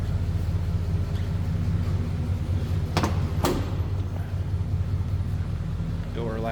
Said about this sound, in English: Door latches nicely.